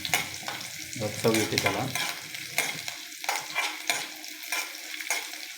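Dal is dry-roasted without oil for a diabetic-diet upma, with a spatula scraping and stirring across a hot pan in repeated strokes and a soft sizzle underneath. Someone speaks briefly over the first half.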